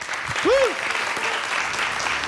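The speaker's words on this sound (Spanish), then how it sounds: "pido un fuerte aplauso para el Club Chelo Chaca" Audience applause for the Club Hielo Jaca ice hockey team at an Aragon event, a broad steady clapping wash with a brief whooping voice near the start, continuing evenly throughout.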